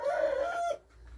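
A chicken in a coop gives a single loud, drawn-out call close by, lasting under a second before dropping to near silence, with no talk.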